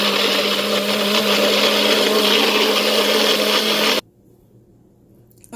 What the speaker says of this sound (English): We're going to get that all blended up.